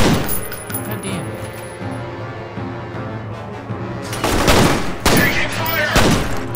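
Submachine gun fire in the first-person shooter F.E.A.R. rattles out in loud bursts, with sharp clustered shots crackling toward the end over game ambience.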